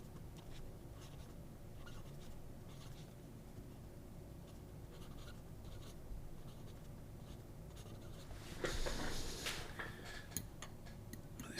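Pen with very wet, well-lubricated ink scratching across Fabriano paper, faint close-up scribbles in short strokes, then a brief louder rubbing burst near the end.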